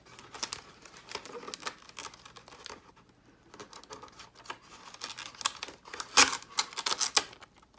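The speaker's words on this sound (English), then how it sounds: "we're just gonna wrap some clear packing tape around that also" Clear packing tape is pulled off the roll and wrapped around a part of a Freewing T33 turbine model jet, making bursts of crinkling and tearing. The bursts come in uneven rhythms, near and fairly loud.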